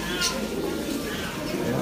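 Racing pigeons coo in a breeder's loft, a soft low rumbling chorus running steadily underneath someone talking close by.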